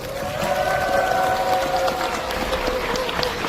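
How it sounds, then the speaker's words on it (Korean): Broad applause and crowd noise from spectators at a community sports and gymnastics event rolls on steadily, with a sustained tonal hum and murmured voices mixed underneath. "특히 오늘 대회에 참가하신 선수 여러분의 열정의 노고에 큰 박수를 보냅니다."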